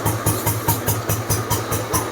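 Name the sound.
engine beat of restored 1968 Royal Enfield Bullet motorcycle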